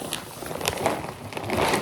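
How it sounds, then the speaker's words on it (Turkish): A plastic shopping bag is being handled, producing a continuous close-up crinkling and rustling with small crackly bursts, heard alone without talk. "İlk poşeti aşağıya indirip"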